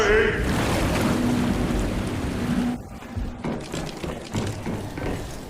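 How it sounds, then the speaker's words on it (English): A low, steady foghorn tone from a video game sounds in the distance beneath a wash of wind and rolling water, fading out partway through. "you can hear the foghorn in the distance"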